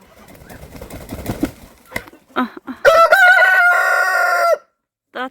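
A loud rooster crow rings out for a couple of seconds after muffled background sounds and rustling, followed by a short clucking call.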